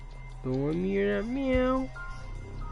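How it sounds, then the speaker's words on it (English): Two drawn-out video game cat meows, the second rising then sliding down, over a faint steady background hum. "don't let me hear that meow"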